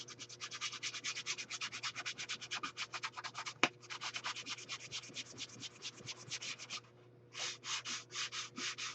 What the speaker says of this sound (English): This has got some 120 grit sandpaper, and all I did was scuff the shininess off of my book.